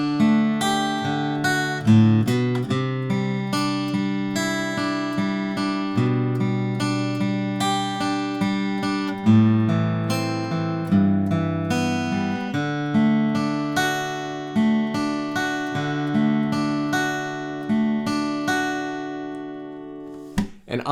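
Electric guitar playing the pre-chorus of a song, a steady run of picked chords and ringing notes with rhythmic accents, clear and alone with no talking.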